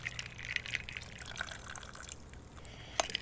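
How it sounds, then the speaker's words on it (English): A pinkish cocktail is poured over ice in a glass, producing a quick sequence of liquid splashes, drips and crackling ice tinkles up close, ending with a brighter clink near the end. "So we're going to pour it over ice."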